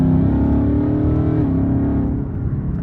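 A manual Ford Mustang GT pulls hard in third gear, its engine note a loud, continuous droning rumble that rises slightly and then eases near the end, with no voices over it.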